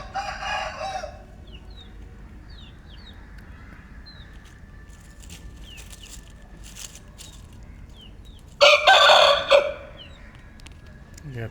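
An Aseel rooster crows twice, once near the start and once loud and close near the end, with chirping birds faint in the background of an outdoor yard.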